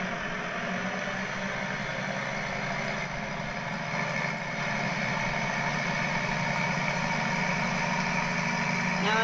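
A small tractor engine idles steadily and close by on a farm, a constant mechanical rumble with a slight rise in level partway through.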